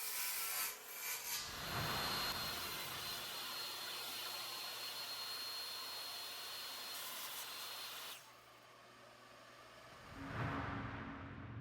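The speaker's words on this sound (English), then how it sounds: "I'm cutting about an inch off this piece of cherry wood." A saw trims about an inch off a piece of cherry wood using a crosscut sled, a loud steady whirring cut lasting roughly eight seconds before the sound drops, followed by a brief shuffle.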